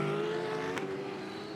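Supercars racing in the 2023 season: a steady, loud engine drone with a sustained harmonic whine and a brief bright burst midway, continuous throughout with no talk.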